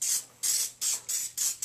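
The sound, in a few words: Pillsbury baking spray with flour being sprayed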